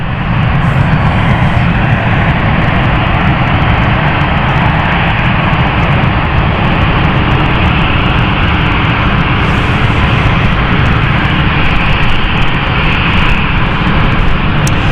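Airliner on the Dublin flight taxiing to park at London City Airport, a loud, steady engine roar and whine holding close and constant throughout.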